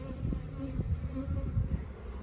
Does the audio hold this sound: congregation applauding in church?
no